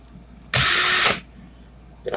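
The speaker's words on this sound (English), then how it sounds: "Put my drill in the opposite motion" A power drill spinning in reverse while twisting wire for a vape coil build gives one loud, steady whine lasting about half a second before it winds down, with a brief noise starting again at the end.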